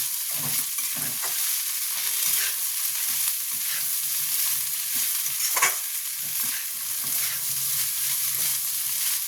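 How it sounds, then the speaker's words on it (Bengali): Flattened rice (chira) frying in white oil for chirer polao, a steady close sizzle with repeated stirring scrapes throughout. "চিড়েটা দিয়ে একটু আমি নাড়াবো।"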